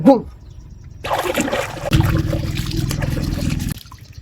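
Water splashing and pouring close by as someone washes in a flowing dam-fed stream during a solo trip, bursts of splashing growing steadier and louder midway, with a voice talking at the start.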